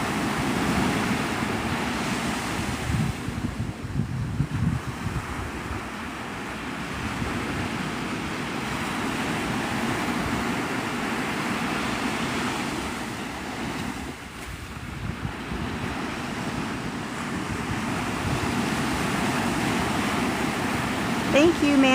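At sunrise on Navarre Beach, Florida, ocean surf rolls steadily and close, with a broad, continuous wash, heavy wind rumble on the microphone, and a slight lull midway.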